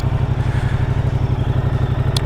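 A Moto Guzzi V100 Mandello S engine runs close by with a deep, even, rapidly pulsing beat, steady throughout, with one faint short tick near the end.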